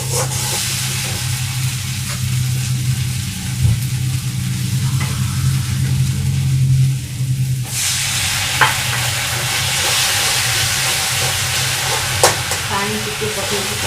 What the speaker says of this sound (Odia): ତାପରେ ଆମେ ଟିକେ କଷିବା।